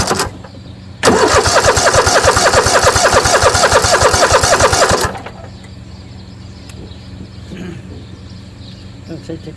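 A Kohler 7000 Series motor, fitted with a newly replaced carburetor, cranks in a loud rhythmic burst for about four seconds, then catches and drops to a quieter steady running note close by.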